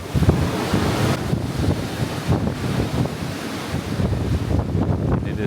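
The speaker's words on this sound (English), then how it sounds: "Sorry for the wind." Strong wind buffeting the microphone and the rush of rough waves on the open deck of a Celebrity Summit cruise ship during a Panama Canal cruise, loud and continuous, with a steady churning roar and gusty swells throughout.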